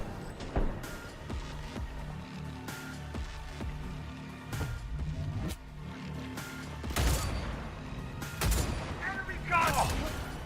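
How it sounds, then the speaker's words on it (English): Gunfire from a wall-piercing gun in the video game Cyberpunk 2077, sharp repeated shots and booms at irregular intervals over a layered in-game soundscape, with a voice talking over parts of it. "This gun can kind of shoot through walls a bit."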